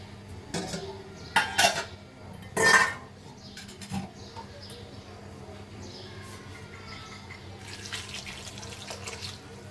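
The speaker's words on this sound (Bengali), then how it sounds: "এখন পরিমাণ মতন পানি দিব" Water is poured into a pot of masoor lentils and drumstick pieces, opening with a few clanks and splashes of pot and utensils, then settling into a quieter steady trickling hiss.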